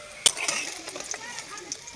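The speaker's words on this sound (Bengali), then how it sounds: "দুই দিকই ভালো করে ভাজা হয়ে গেছে, এবার তুলে নেব।" Radish fritters frying in a pan, with a sharp clink of utensils against the pan at the start, then soft stirring and faint sizzling close by.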